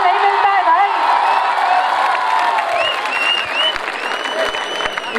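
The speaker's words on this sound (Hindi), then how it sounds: "इतने से नहीं चलेगा, जोरदार तालियां होनी चाहिए." A college festival audience in Navi Mumbai breaks into loud, sustained applause mixed with cheers and whoops, dense crowd clapping that fades slightly toward the end, with voices shouting over it.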